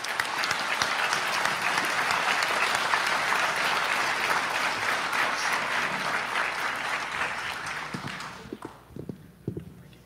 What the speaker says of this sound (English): a humongous round of applause for all the work he does.